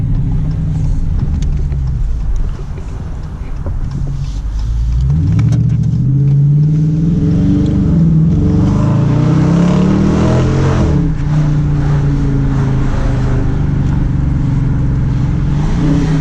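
A 2017 Dodge Challenger R/T with a Hemi V8 drives and accelerates, its deep engine note rising and falling through gears in a loud, close rumble that continues throughout.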